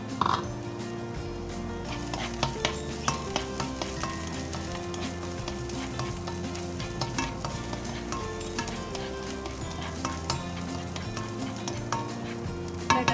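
Garlic sizzles and fries steadily in hot oil in a wok, with occasional clinks of a utensil stirring against the pan.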